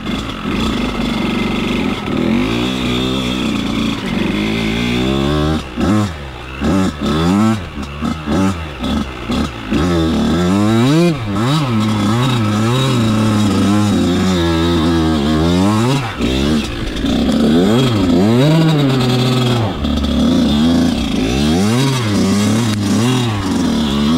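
A 1999 Kawasaki KX80 two-stroke dirt bike revs hard and loud on icy wooded trails, its high, raspy engine note rising and falling in rapid bursts as it struggles and gets stuck, with a voice talking briefly at times.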